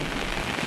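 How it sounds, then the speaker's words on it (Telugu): Heavy rain pouring down in Hyderabad, a dense, steady hiss of downpour filling a brief moment with no voices. "పూర్తి స్థాయిలో వర్షం కురుస్తున్నటువంటి పరిస్థితి ఉంది"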